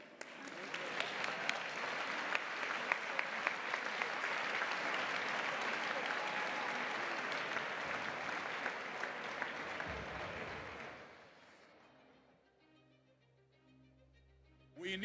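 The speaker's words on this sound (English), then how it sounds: "Give a big applause to these three fighters for democracy." Audience applause fills a plenary hall at a global summit in Barcelona, sustained dense clapping for about eleven seconds before fading out, leaving a quiet room with faint speech at the end.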